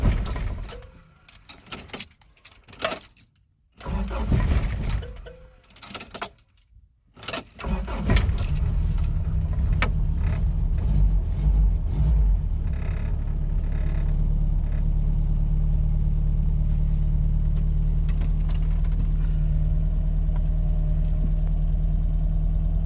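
A 1993 Toyota pickup's 22RE engine cranks in a few uneven bursts with some clinking, then catches and settles into a steady, loud idle that drones on without talk.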